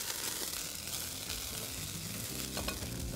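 Onions and peppers frying in hot oil crackle and sizzle steadily in a pan, with stirring scrapes and small pops, close and continuous with no talk.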